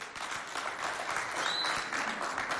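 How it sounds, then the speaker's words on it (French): An audience applauds a school singing contestant, a steady wash of many hands clapping at a moderate distance, continuous and unbroken throughout, with no voices on top. "Djekadom Bonheur, on l'applaudit s'il vous plaît."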